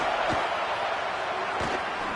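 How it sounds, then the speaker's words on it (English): Stadium crowd in a college football video game roars during a third-down defensive stand, a dense steady wash of cheering noise with a couple of sharp thuds, loud and continuous throughout. "Decibels rising as the crowd gets behind this defense on third down."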